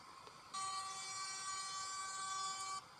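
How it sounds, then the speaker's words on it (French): A 2021 Volvo FH16 truck's air horn sounds in World Truck Driving Simulator, one sustained, steady blast of about two seconds, fairly quiet and alone. "Voilà klaxon."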